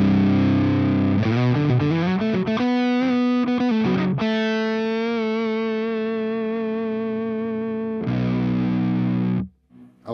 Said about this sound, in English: The different types of compression, so the asymmetrical and symmetrical, you'll hear this.